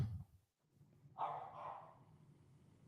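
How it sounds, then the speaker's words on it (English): A dog barks once in a short, mid-loud burst, followed by a softer trailing yelp, in a quiet indoor room with no talk. "the pup's upset, Shayna."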